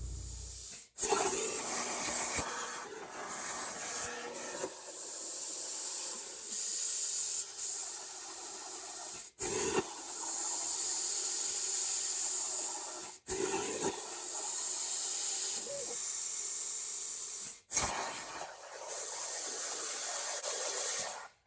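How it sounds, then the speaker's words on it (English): A plasma cutter slices a metal bracket out of sheet in a loud, harsh continuous hiss, broken into four long passes by brief pauses, with no talking. "we're going to do a cutout on the plasma machine and just cut the bracket out there"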